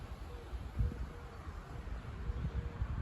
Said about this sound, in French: Avec véritablement une tempête de bise sur le Léman